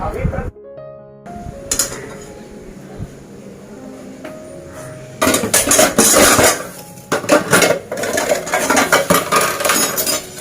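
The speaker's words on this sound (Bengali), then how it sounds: "এবার কড়াই মাজবো আর এই বাসনগুলো তো মেজেইছি" Metal dishes, utensils and a kadai being scrubbed and handled at a home kitchen sink, with clinks, scrapes and knocks coming in bursts, busier and louder in the second half, close by and with no talk.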